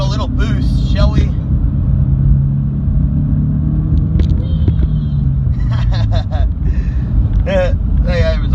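A supercharged Scion FR-S engine pulls hard under acceleration, a loud rising drone heard from inside the car with buffeting wind noise and bursts of chirpy squeals over the top.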